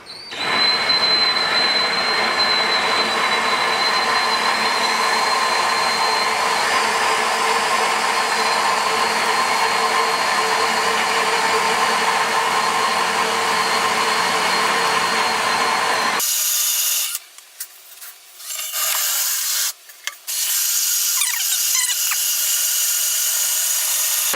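A drill-powered grain mill grinds brewing grain indoors with a loud, steady whine for about sixteen seconds, then cuts off, leaving a few quieter clatters.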